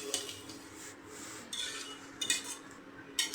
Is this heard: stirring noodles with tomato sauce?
yes